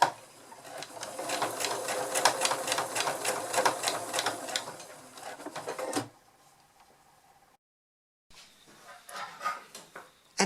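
A sewing machine stitches around the edge of a fabric clothespin bag, a fast steady mechanical whir for about six seconds, then silence, then a brief quieter burst of stitching.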